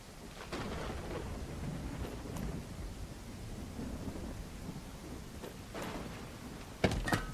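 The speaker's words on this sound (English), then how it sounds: "Oh, and it's raining." Rain falls steadily in the video game Everwind, with distant rumbles of thunder rolling underneath and a sharper crack near the end.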